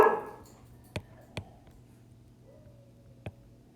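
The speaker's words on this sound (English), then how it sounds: "You can hear my dog barking." A dog barks a few times in a quiet room, three short sharp yaps spaced apart and somewhat distant, after a brief noise at the start.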